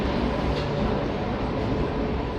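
A Rampurhat–Barddhaman MEMU passenger train arriving at a station, a broad steady rumble and roar that stays loud and constant throughout, with faint voices mixed in.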